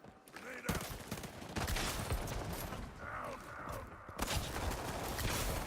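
Gunfire in a video game raid: scattered bursts and shots under voices, with team chatter and callouts running throughout at moderate level.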